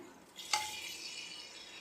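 Chopped tomatoes drop into a pan of frying ginger and garlic, setting off a sharp sizzle that settles into a soft, steady frying hiss over nearly two seconds.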